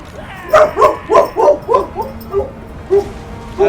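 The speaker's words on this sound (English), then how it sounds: "I apologize for my dog barking." A pet dog barks and yips in a quick run of about ten high-pitched, close barks that taper off, then a couple more after a short gap.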